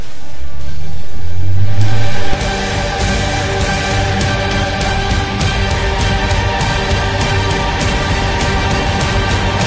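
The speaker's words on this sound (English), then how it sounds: "the moment you want to hear that V6 sing" Audi S5 Sportback V6 engine revs hard, a loud sustained howl that builds for about two seconds, then drops to a steady, rough-edged engine drone, up close with no voices.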